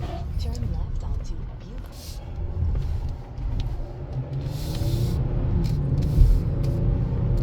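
A 2022 Kia Telluride SUV on a test drive, heard from inside as a steady low road rumble and engine hum with occasional brief hisses and clunks, with a voice speaking over it.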